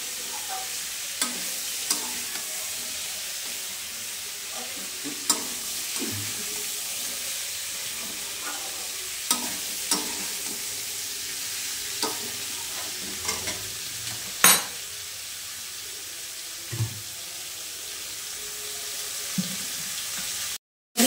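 Vegetables and drumstick pieces frying for Bengali shukto, a continuous low sizzle broken by repeated spatula scrapes and clinks against the pan at an irregular pace, close by.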